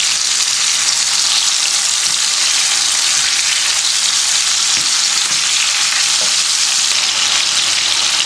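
Chicken tikka fries on a tawa over low heat, giving a steady dense sizzle that holds at the same level throughout, close and loud, with no voices.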